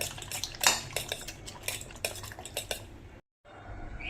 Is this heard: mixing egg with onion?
yes